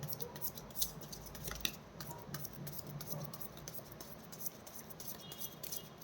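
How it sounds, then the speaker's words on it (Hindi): Tarot cards being shuffled by hand, a quiet papery riffling and rubbing that runs steadily throughout with a few soft slaps and no speech. "this is my last shuffle"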